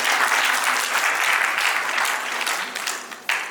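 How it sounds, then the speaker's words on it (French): Applause fills a trading summit hall, a loud, dense burst of many hands clapping at once that gradually thins toward the end, with little else audible. "Est-ce qu'on peut applaudir très fort?"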